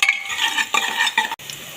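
Cashews and raisins fry with onion in a pan, giving a close, bright crackling sizzle broken by quick stirring scrapes and a brief clink near the end.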